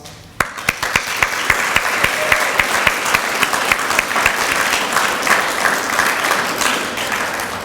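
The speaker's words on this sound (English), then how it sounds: "Now let's have one more round of applause." At a Gamma Beta Phi induction ceremony, an audience gives a loud, steady round of applause, opening with a few sharp individual claps that build into dense, sustained clapping for several seconds.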